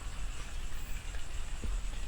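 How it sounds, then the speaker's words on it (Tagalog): Heavy rain pours down onto a tarp at night, a dense, steady hiss with soft low drumming, continuous and close, with no voices. "biglang lumakas yung ulan dito"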